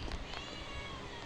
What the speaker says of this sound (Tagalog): Pusa ng lolo ko.